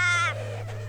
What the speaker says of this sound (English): crows are opportunistic scavengers, often seen eagerly patrolling roadways for an easy meal